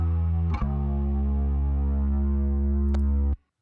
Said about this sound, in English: Bass by itself sounds like this.